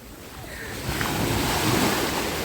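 Black Sea waves at an Odesa beach wash and swell in a steady roar, building louder toward the end, with wind noise on the microphone.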